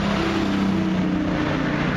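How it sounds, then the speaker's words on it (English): Steady roar of traffic on a busy street, engines rumbling and a vehicle revving close by, continuous and loud with no gaps. "Sorry about the noise, but again, I'm on a very busy street today."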